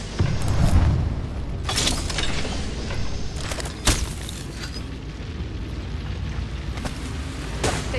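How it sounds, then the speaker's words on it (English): A thermite grenade burns in Apex Legends: a steady roaring hiss with scattered booming bursts and sharp pops, one louder crack near the middle, amid continuous game ambience. "Throwing thermite grenade."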